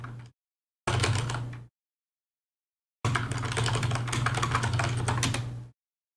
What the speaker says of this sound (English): I'm typing to someone